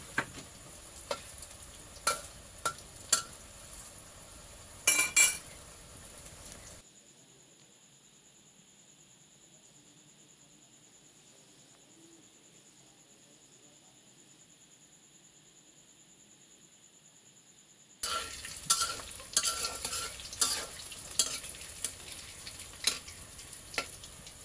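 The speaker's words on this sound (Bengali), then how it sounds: "তারপরে আমি জালটা নিয়ন্ত্রণে রেখে অল্প আঁচে বড়াগুলো ভেজে নিব।" Banana flower fritters fry in oil over low heat, crackling and popping close by with sharp spatters at the start and end and a long near-silent gap in the middle.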